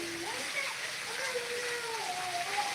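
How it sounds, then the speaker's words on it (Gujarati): Heavy wind-blown rain in Morbi pours in a constant hiss and splatter, while people talk over the downpour. "કુણેપુરા વિશાળ જોરદાર વરસાદ ભાઈ જોરદાર વરસાદ હો"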